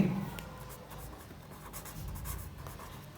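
Pen scratching across paper, written out by hand during an accounting lesson, a quiet, continuous scribble with light strokes close to the microphone.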